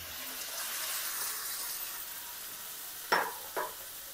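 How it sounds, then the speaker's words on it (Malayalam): Biryani ingredients frying in a pan, a soft continuous sizzle with two sharp scraping clatters of a spoon near the end. "പൊരിച്ചു കൊടുക്കാം."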